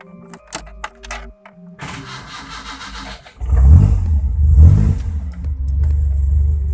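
A Bajaj Platina motorcycle, fitted with a replacement CDI, starts after a few clicks and rattles, then its engine catches and runs loudly with uneven revs close by.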